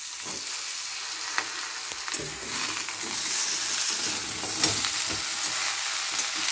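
Vegetables fry in a pan for Odisha-style dalma with a loud, continuous broadband sizzle. A few stirring knocks and scrapes break through now and then, and no one speaks.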